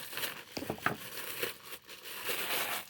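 Close, quiet crinkling and rustling of plastic packaging being cut open around a green purse, with a few brief crackles and tearing scratches over a soft steady hiss.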